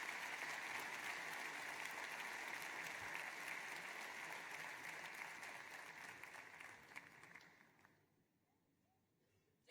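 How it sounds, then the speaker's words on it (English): An audience at a commencement ceremony applauds faculty excellence awardees with steady, dense clapping that fills the room, then fades out near the end, leaving quiet hall tone. "Let's give a final round of applause to this year's class of Faculty Excellence awardees."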